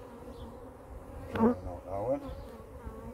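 Honey bees hum around an open hive during feeding in a UK apiary, a close buzzing drone that swells briefly, with a short spoken phrase partway through.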